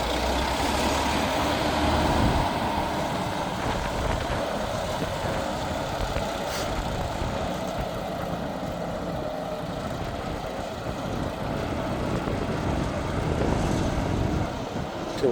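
Old Gibson forklift engine running in low gear, a loud continuous rumbling and knocking drone with steady mechanical clatter, close by and without speech.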